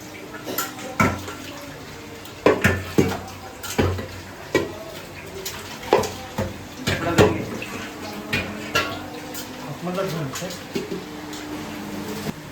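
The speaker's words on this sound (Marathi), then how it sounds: "पातेला धुवून घेऊया" A cooking pot is washed under running water in a Malvani-style kitchen, with repeated sharp metallic clanks and scrapes over a steady, quiet water rush. Faint voices are in the background.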